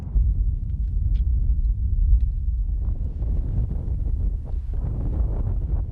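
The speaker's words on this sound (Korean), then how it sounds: "기온은 뚝 떨어지고 바람소리 외에는 아무것도 들리지 않는 적막한 땅" Cold wind gusting steadily across high Himalayan terrain near Dingboche, above 4,000 m, a low buffeting rumble against the microphone with no other sounds.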